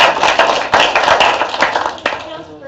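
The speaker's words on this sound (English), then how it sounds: "Let's give them another round of applause." Applause at a city council meeting in Jeffersonville, with dense, irregular clapping filling the short stretch at steady loudness; voices murmur underneath.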